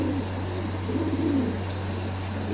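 Pigeons in a racing pigeon loft coo in soft, rolling phrases close by, over a steady low hum.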